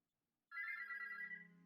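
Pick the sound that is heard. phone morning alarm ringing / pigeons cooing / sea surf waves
phone morning alarm ringing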